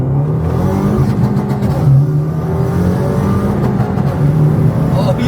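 A road car driven at full throttle on the Mandalika race track during a JDM track day, its mid-pitched engine revving hard and steady throughout, loud and close, with a person talking over it.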